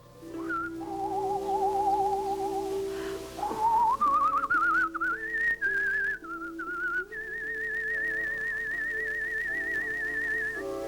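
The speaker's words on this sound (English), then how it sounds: "spends her time whistling Dixie" A woman whistles a melody alone, clear and close, with a warbling trill early on and long sustained high notes later.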